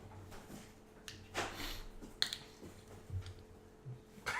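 A few sharp, isolated hand claps for syncing video, quiet and brief, with a faint background hum and some soft voices.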